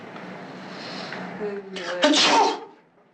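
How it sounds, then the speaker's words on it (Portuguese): In an improvised film scene, a man sneezes over a pile of cocaine. A quick inhaled build-up leads into one loud, sharp sneeze, following faint muffled talk. "ele acabou espirrando na hora e espalhou toda a cocaína em cima de todo mundo"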